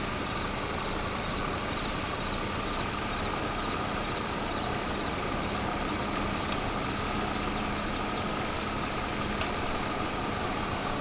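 A farm vehicle engine idles and runs steadily in Farming Simulator 22, a constant low rumble with a faint whine that holds unchanged throughout, with no one speaking.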